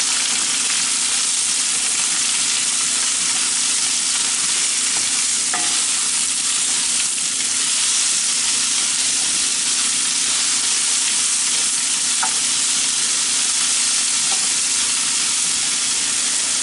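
Onions frying in a pot, stirred with a wooden spoon: a steady close sizzle and hiss runs throughout, with a few faint knocks of the spoon against the pot.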